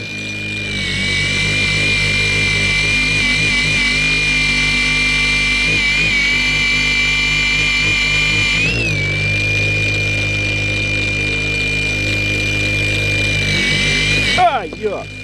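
A felt buffing pad on a power tool grinds steadily against a handmade piece, a loud close motor whine that dips briefly midway and cuts off near the end, with speech over it.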